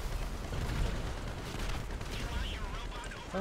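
Gunfire in the video game GTA V sounds as a string of sharp shots and bursts under excited voices talking over the action.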